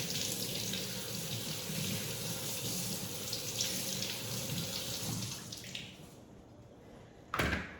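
Tap water runs steadily from a faucet into a sink while carrots are rinsed, a continuous broadband rush for several seconds that drops off near the end, followed by a brief splash.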